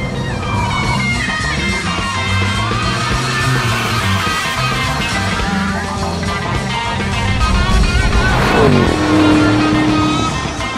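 A Wiesmann GT MF5 sports car with a BMW M5 engine and six-speed automatic drives by. Its engine note rises and falls through revs, ending in a sharp shifting burst and a short tonal whine, loud and close.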